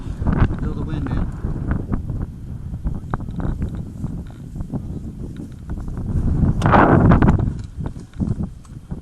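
Wind gusts outdoors at an airsoft field, rushing steadily with a stronger swell near the end, mixed with footsteps and movement while people talk throughout.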